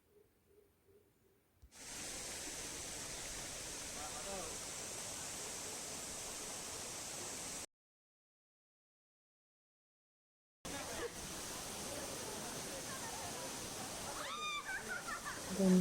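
Ermayi Falls near Ujire, Mangalore, roars as a steady, close wash of rushing water, broken once by a few seconds of silence before the torrent resumes.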